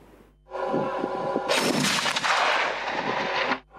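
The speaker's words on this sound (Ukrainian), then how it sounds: "Це перший постріл, який бійці Дніпровської бригади ТРО зробили з цієї трофейної БМП" A heavy cannon shot from a captured infantry fighting vehicle booms loudly at a firing range after a low mechanical rumble, followed by a sustained roaring blast that fades abruptly.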